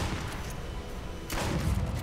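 Gunfire from the video game Duck Season bursts out as a rapid rattling volley, loud and close, surging again in the second half.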